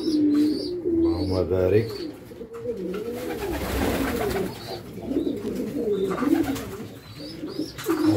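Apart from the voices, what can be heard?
pigeons cooing while eating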